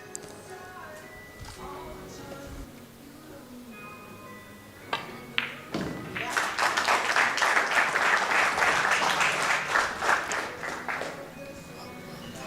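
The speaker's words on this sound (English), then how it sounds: "A well-earned round of applause." Audience applause breaks out in the hall at a women's world 9-ball pool championship, rising after a few sharp clicks into a loud, sustained burst of clapping that fades toward the end.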